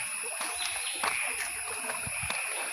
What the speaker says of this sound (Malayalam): മഴക്കാലമായതുകൊണ്ട് തോട്ടിലൊക്കെ വെള്ളം കയറിയിട്ടുണ്ട്.